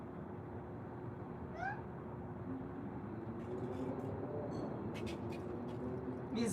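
A cat gives a short rising meow early on against a steady low indoor hum, with fainter chirps and small noises later; other cats are nearby but quiet.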